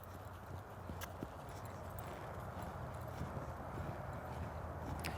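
A horse lopes on soft ground in an arena, with faint, rhythmic hoofbeats in a rolling three-beat pattern over steady outdoor noise and some distant clatter.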